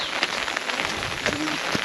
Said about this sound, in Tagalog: O, gaya niyan, ulan na naman.